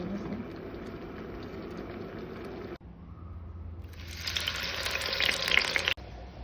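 Prawns frying in a pan while cooking for guests, a steady close sizzle that drops briefly and then returns louder and brighter with hissing spatter before cutting off.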